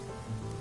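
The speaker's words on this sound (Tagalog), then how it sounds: "damhin ang bawat patak ng ulan" Rain falls at night in Manila, a steady close wash of patter that holds evenly through the short moment.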